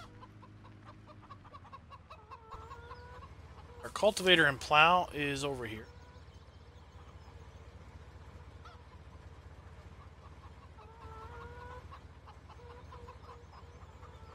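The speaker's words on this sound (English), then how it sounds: "Here is our chickens." Chickens in the farming video game Farming Simulator 17 give a short burst of loud clucking and squawking near the middle, set over a steady low game ambience, with someone talking before and after.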